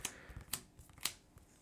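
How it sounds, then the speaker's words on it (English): A deck of cards is shuffled for the board game Earthborne Rangers, heard as a few crisp, quiet snaps and riffles spaced irregularly at close range with no talking. "shuffle up my deck here."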